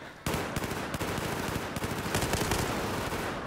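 Sustained rapid gunfire in a video game, enemies firing through windows: dense automatic bursts begin abruptly and continue loud and close throughout, with no talk over them.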